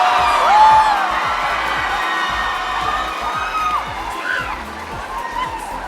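Crowd at a live a cappella show cheering and whooping with scattered shouts, a sustained audience roar that eases slightly over several seconds.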